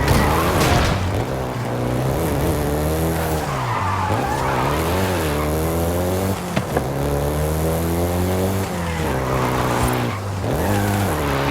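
Volkswagen Golf GTI driven in Forza Horizon 5, its engine droning loud and close with rising and falling revs through gear changes and tires squealing in skids throughout.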